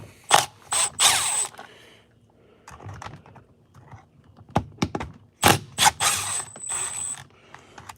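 A cordless power drill set to low torque drives screws back in, with several bursts of whirring and ratcheting clicks separated by brief pauses and small handling knocks.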